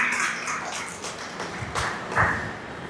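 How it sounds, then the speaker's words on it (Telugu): Audience applause at an Independence Day gathering, a steady wash of clapping hands filling the room, fairly loud and continuous with a few sharper claps standing out. "పిరమిడ్ మాస్టర్లందరికీ గట్టిగా క్లాప్స్ పెట్టుకుందాం"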